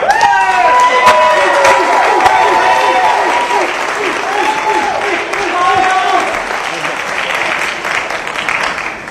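A large audience at a political community conversation event bursts into steady, loud applause with some cheering. It continues for several seconds without pause, and no one speaks over it.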